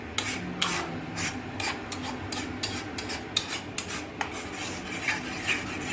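Prawn curry masala being slowly stirred and fried in a pan, repeated scraping strokes of a spatula against metal in an irregular rhythm, close and clear with no talk.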